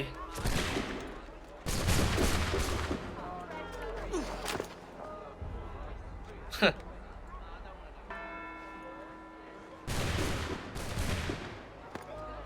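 Gunfire in Assassin's Creed 3 Remastered comes in several loud, crackling volleys with one sharp standalone shot midway. Game voices and other sounds run between the bursts.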